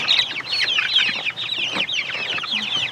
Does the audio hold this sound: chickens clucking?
yes